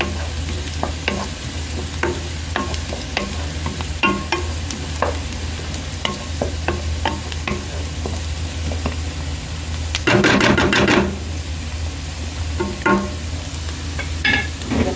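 Chicken pieces fry in a pan while being stirred, a continuous close sizzle with frequent clattering scrapes of the spatula and one louder burst of scraping near the end, no voices.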